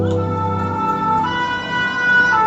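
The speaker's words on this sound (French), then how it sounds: "Regardez ce camion de pompiers" A fire truck siren wails close and loud in a steady rising and falling tone, with road traffic rumbling underneath and no talk.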